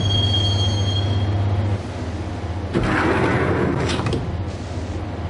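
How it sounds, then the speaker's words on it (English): A train in the PlayStation 4 game Max Payne rolls along with a steady low rumble and a thin high wheel squeal, followed by louder screeching, rattling bursts as it carries on, with no speech. "the train doors had already shut behind me, and I was in for the ride"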